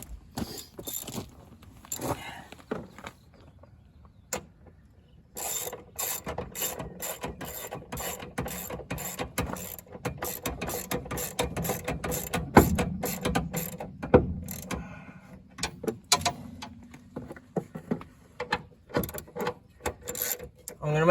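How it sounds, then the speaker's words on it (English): A hand ratchet tightens strut bolts on a 2005 Chevy Malibu during a strut replacement, making close, rapid clicking runs in bursts with short pauses between them. "So we're going to tighten these up first, make sure that strut's where it needs to be,"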